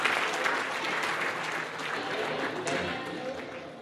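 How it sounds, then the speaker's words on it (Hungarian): An audience applauds at an award ceremony, a steady wash of dense clapping from a crowd that carries on throughout at moderate volume and fades a little toward the end. "a közönségtől a tapsot megérdemli"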